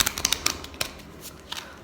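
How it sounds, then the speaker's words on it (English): Clue board game cards are shuffled by hand in a quick series of crisp riffling bursts and soft snaps, close up and clear, tapering off toward the end with no talking. "I'm just gonna shuffle them even more"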